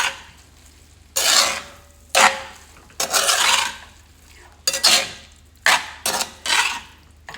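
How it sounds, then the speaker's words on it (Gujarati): Potatoes tossed and stirred with black salt in a pan for bhungra bateta, about eight distinct scraping, rustling strokes in an uneven rhythm, close and fairly loud, with quiet gaps between them. "અને મિક્સ કરવાનું"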